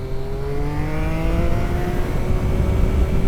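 A superbike motorcycle engine under way on a commute, a loud steady drone with tones shifting as it accelerates, over heavy wind rumble, with no talking.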